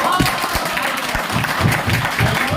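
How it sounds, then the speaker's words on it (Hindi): Audience applause fills a classroom or lecture hall after a lunch break, dense steady clapping from many people, loud and close, continuing throughout. "एक ताली तो खुद के लिए होना चाहिए आप सबको"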